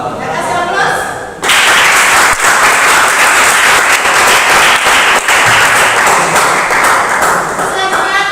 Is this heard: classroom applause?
yes